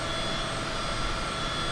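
A steady aircraft engine drones in Microsoft Flight Simulator 2020 during an approach to landing. The broad, unbroken engine noise stays constant throughout, with no voices.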